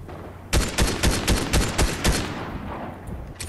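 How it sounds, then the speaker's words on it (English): Rapid video game gunfire aimed at a wall, a close, loud burst of about seven or eight quick shots in roughly a second and a half, then fading into a quieter tail. "I'm just shooting the wall so I can get a better chance"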